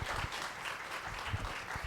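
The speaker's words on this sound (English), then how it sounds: "a big round of applause for the HR Circle team" A brief burst of audience applause for a team on stage at an HR conference, dense clapping from a crowd lasting under two seconds.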